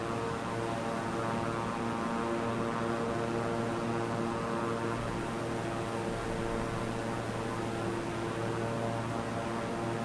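A single-engine Cirrus plane in Microsoft Flight Simulator 2024 gives a steady, loud engine and propeller drone with a constant tonal hum, unbroken for about ten seconds and with nobody talking.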